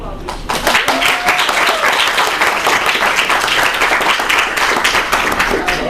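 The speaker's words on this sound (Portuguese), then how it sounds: "Uma salva de palmas para a Clóvis" Applause from attendees at an opening lecture for a junior data analyst course, a steady crackle of many hands clapping close by, with faint voices mixed beneath.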